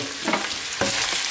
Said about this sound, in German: Bitte immer umrühren, 2 Minuten.